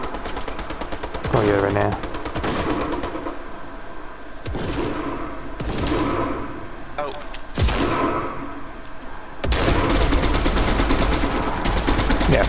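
Fortnite match with close, loud automatic gunfire in repeated bursts and single shots, running under excited voices talking throughout.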